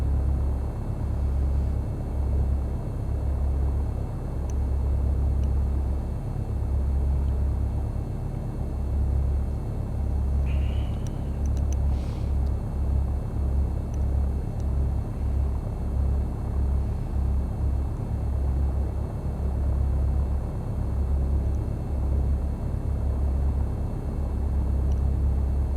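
Aircraft taxiing in the X-Plane flight simulator game with parking brakes released and taxi lights on, a steady low engine rumble and drone holding constant throughout with a faint hiss above, no voices.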